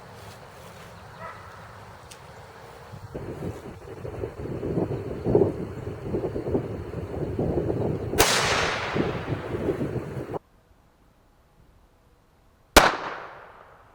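A .22 Magnum fires at body armor made from firehose, two sharp cracks that ring out across open ground amid wind and rustling outdoor noise, one after a quiet gap near the end.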